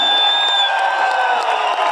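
A large crowd cheering and whooping at a live talk event, loud and sustained for a couple of seconds with rising shouts and whistles.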